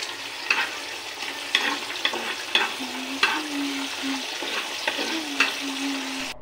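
Chopped onion and garlic sizzle in hot oil in a pan for a dal tempering, a steady close frying hiss broken by regular scrapes of stirring.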